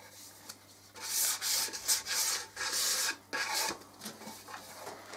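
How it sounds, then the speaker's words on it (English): Fine grit sandpaper rubbed along the edges of a walnut box, giving a series of close, loud rasping strokes with brief pauses between them. "I've just gone around the edges with some fine grit sandpaper just to take the lips off."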